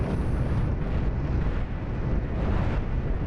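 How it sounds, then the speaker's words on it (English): Missile salvo explosions in the space combat game Cosmoteer, a dense continuous roar of overlapping blasts and rumbling booms, loud and sustained without pauses. "Mostly this is going to be amusing for the missile salvo."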